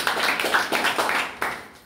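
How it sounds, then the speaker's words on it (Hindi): Audience clapping at a speech event, a short burst of applause with several pulsing waves of hands, fairly close and steady, fading slightly toward the end. "एक बार जोरदार तालियां सर।"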